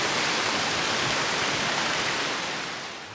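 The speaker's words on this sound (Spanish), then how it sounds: "esto es el río Juanes, que es un afluente del río Buñol" The Río Juanes, a tributary of the Río Buñol near Buñol in Valencia, rushing as a loud, steady broadband roar of flowing water, close by and continuous, easing slightly at the end.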